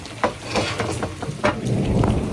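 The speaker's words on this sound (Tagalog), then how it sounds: "Lakas ng kulog." Heavy rain hisses on a rainy Sunday morning while loud thunder cracks and rumbles in several short bursts over the downpour.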